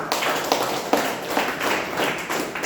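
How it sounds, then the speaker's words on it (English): An audience at a Toastmasters club meeting claps for the speech evaluators, with a steady, even patter of applause from a small room and rhythmic beats standing out. No speech is heard over it. "I think both of them deserve a big round of applause"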